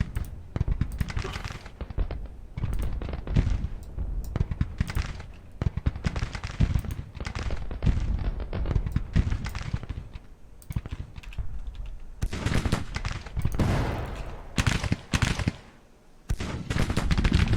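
Civil War battle in Grand Tactician: The Civil War, with rifle volleys and artillery crackling in dense, continuous rattling bursts that rise and fall over many seconds, loud and close.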